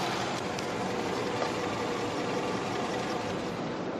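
A nearly new Nissan X-Trail full-time four-wheel-drive SUV with about 10,000 km on it idles nearby. Its engine gives a smooth, even hum that holds constant throughout, with nobody talking.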